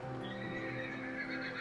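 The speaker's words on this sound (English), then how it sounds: "Why'd you bring the horses into the house?" Horse neighing in the Minecraft video game, a steady harmonic whinny lasting under two seconds, loud and close with no talking over it.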